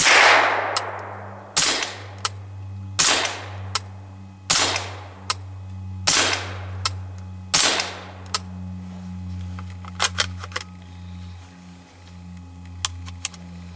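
Suppressed firearm fired with subsonic ammunition: about six loud muffled shots spaced roughly a second and a half apart, each with a short decay, followed by fainter metallic clicks and handling noises over a low steady hum.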